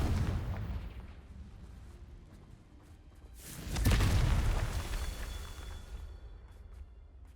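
A Confringo fire spell from the video game Hogwarts Legacy bursts in a single loud, deep boom partway through, rising out of a low rumbling background and then fading away.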